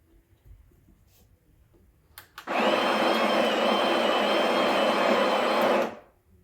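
A Breville Barista Express BES870 grinds coffee beans at a coarse setting, its burr grinder starting abruptly after a few clicks and whirring loudly and steadily for about three and a half seconds before cutting off.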